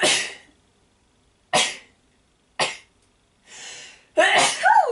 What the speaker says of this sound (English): And I have a sneeze